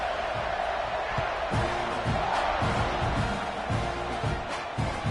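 Football stadium crowd during a kickoff after an extra point, a sustained roar of cheering and shouting with scattered whoops and thumps, loud and continuous across the whole stretch.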